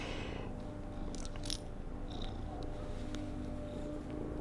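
A steady, low rumbling purr from a feral cat, continuous throughout with a few faint clicks and rustles on top.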